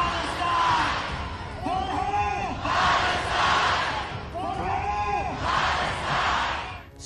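A large protest crowd in Montreal chants slogans for Palestine in rhythmic, repeated bursts, loud and massed, with the call rising and falling in waves.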